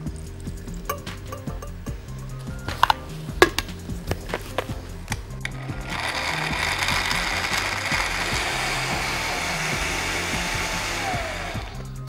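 Avocado, milk and cashews are blended for a milkshake: a few clinks and handling knocks come first, then a loud, steady motor whir runs continuously to the end.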